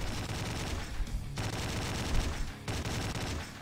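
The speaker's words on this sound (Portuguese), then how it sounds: "Até aquela metralhadora que tá aqui." Rapid automatic machine gun fire in the horror video game Slendytubbies 3, loud, dense bursts running almost continuously with two brief breaks, no talking over it.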